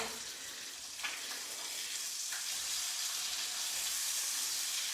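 Mahi mahi fillets fry in a pan with a steady, hissing sizzle, close and even throughout, with a couple of faint knocks early on.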